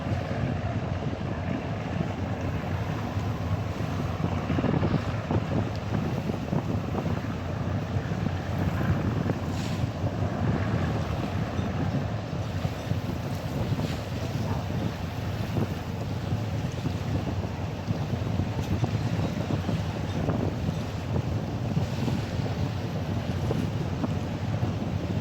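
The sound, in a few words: Sotabdhi Badhon passenger launch moving on river at night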